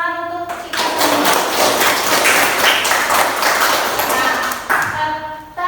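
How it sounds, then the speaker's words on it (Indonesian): Classroom applause in a junior high science lesson, a dense burst of clapping from students lasting several seconds, fairly loud and close, with a voice briefly audible before and after. "tepuk tangan untuk kita semua"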